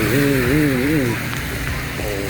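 Rain falls steadily during Storm Kajiki in Pai, Thailand, a loud, continuous outdoor hiss that runs under someone speaking throughout.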